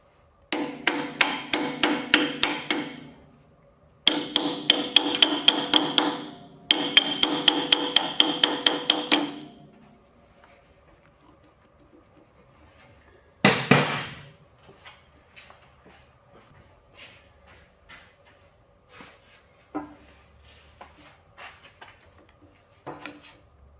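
Three bursts of rapid, ringing metal-on-metal hammering with a wrench on a stuck 50-year-old Kubota tractor, each a few seconds long, then a single sharp strike and scattered lighter taps and clinks.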